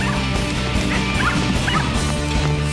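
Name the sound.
dogs barking at a dog agility club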